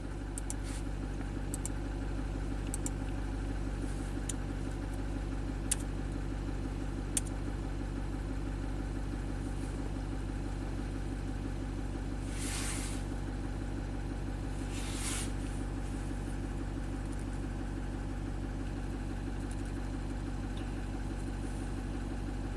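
A GM Duramax diesel engine, troubled by a limp-home fault with poor DEF quality, idles steadily to warm up, a constant low rumble that holds alone throughout, with a couple of faint hissing bursts partway through.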